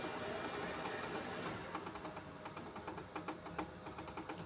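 A Ricoh Aficio SP C430DN laser printer running a job: a faint mechanical whir that becomes a series of rapid rhythmic clicks and ticks as the paper feeds, heard from nearby with no talk.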